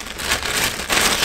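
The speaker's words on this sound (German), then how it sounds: "dann machen wir einfach die Tüte auf" A plastic bag of car radio accessories, cables and a WiFi antenna, is torn open and emptied, giving a short burst of close, crinkly rustling and rattling that swells briefly toward the end.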